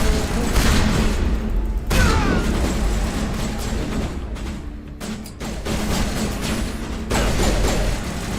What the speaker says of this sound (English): I took him out with a pistol.